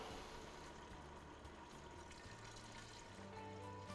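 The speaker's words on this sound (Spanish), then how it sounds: "Vamos a poner el caldo," Broth or water poured into a Magefesa Star pressure cooker over meat for a hare-in-chocolate stew, a steady liquid splashing and filling sound with no talk.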